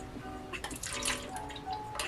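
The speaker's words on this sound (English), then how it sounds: "let's go ahead and pour this one in here" Melted candle wax pours into a container, a close, continuous liquid trickle with small splashy drips that runs for about two seconds without speech.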